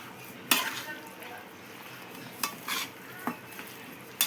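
Chopped coriander being stirred with oil in a bowl for chicken dum biryani, giving soft scraping and light clinking strokes in a few scattered bursts, close and fairly quiet, with no talking.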